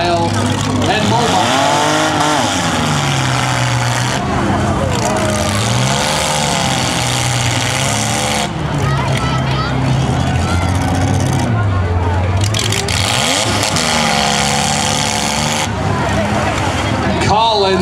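Race car engines roar continuously at Brooklin, revving up and down with shifting pitch, under a constant wash of crowd and commentary noise.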